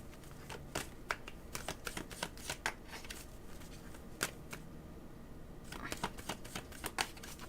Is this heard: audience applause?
no